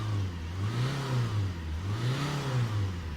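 The diesel engine of a Citroen Berlingo 625 HDi revs up and down about twice in a smooth wavering cycle, heard close and fairly loud with no talking.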